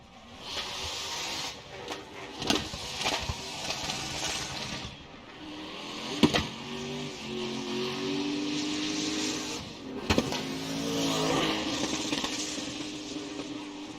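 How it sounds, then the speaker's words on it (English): A BMW drift car engine revs loudly and continuously at a Formula Drift event in Atlanta, with sharp exhaust pops and bangs cracking out at irregular intervals over the roar. "Listen to this thing, pop and bang."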